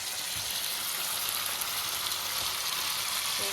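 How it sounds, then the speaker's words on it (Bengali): Spice paste sizzling and frying in a pan with pointed gourd and half-boiled potato, a steady close hiss with faint stirring scrapes and no talking. "তো আমি মশলাটা কষিয়ে নিই,"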